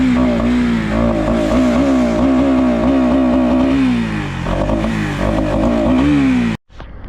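An NS200 motorcycle engine runs roughly and fails to run properly, a loud, continuous uneven drone that wavers and surges up and down before cutting out abruptly near the end.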